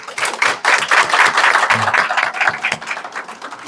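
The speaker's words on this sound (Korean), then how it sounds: "큰 박수로 다시 한번 더 박수해 주시기 바랍니다" A church congregation claps loudly at a missionary sending service, a dense, steady burst of applause lasting several seconds with a brief dip partway through.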